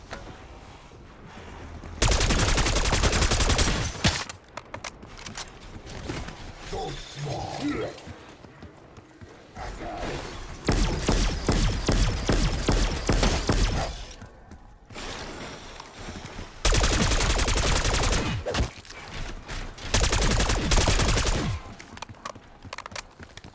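Long bursts of assault rifle fire in Call of Duty Zombies, several loud sustained volleys separated by quieter stretches where voices talk.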